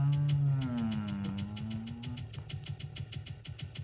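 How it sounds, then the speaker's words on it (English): A flat-4 piston engine with a knock in the SimplePlanes flight game drones steadily and dips in pitch, then settles into a fast, regular tapping pulse over a low hum, moderately loud and alone. "The engine's got a knock to it"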